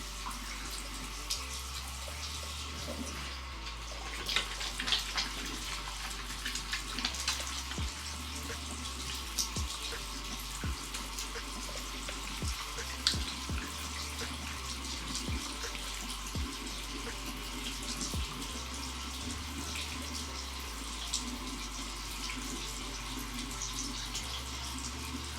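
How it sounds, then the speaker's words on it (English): Tap water runs steadily into a sink during face washing, a continuous hiss with faint drips and splashes of hands in the stream, no voices. "now I'm about to get into washing my face."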